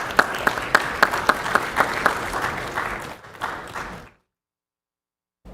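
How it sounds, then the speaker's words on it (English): Attendees at a city council meeting give a round of applause, starting with distinct rhythmic claps that merge into a fuller patter, then fade away into silence after about four seconds. "let's give them a round of applause for all that they've done"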